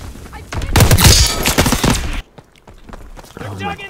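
Rapid bursts of gunfire in the World War II shooter Call of Duty WWII, loud and dense for over a second, then quieter distant shots; players talk over it.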